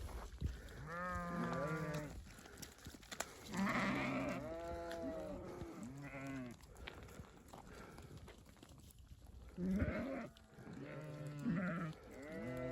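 Sheep being introduced to spring pasture bleat repeatedly, with several voices calling close by in overlapping bursts and short pauses between them.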